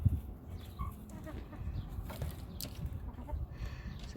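Backyard chickens around their coop, with a hen or two clucking softly and briefly over steady low outdoor rumble; the calls are sparse and fairly quiet rather than a loud flock chorus.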